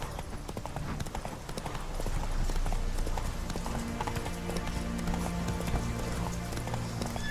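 A horse gallops at a steady pace in The Witcher 3, its hooves pounding out a rapid, continuous clip-clop rhythm that stays close and loud throughout.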